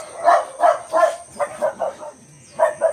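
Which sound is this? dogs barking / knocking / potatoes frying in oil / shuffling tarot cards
dogs barking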